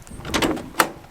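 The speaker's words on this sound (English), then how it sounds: "Doors open." Rear camper doors on a Toyota pickup swing open in a brief clunk followed by a sharper latch click, close by.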